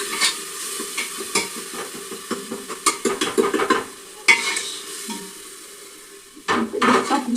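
Vegetables cooking in a pan with masala and turmeric, a spoon stirring and scraping steadily over a soft sizzle, with clinks of the utensil against the pan; no one talks.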